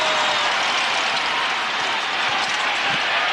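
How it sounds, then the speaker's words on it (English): Crowd noise in a basketball arena during a 2003 NBA playoff game between the Kings and Mavericks, a loud continuous roar of many voices and clapping throughout, with no pause. "Christie, crowd looking for a travel."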